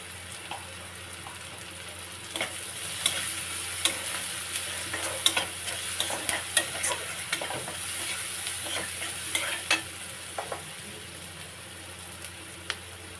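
Ginger, coriander, cumin and chili fry in a pan with turmeric and salt, a continuous sizzle broken by repeated close spatula scrapes and stirring clicks.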